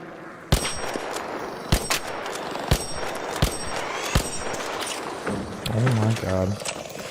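Video game gunfire cracks out in sharp, loud single shots spaced about a second apart, with metallic clangs and a short burst of rapid fire near the end, over a background of game ambience.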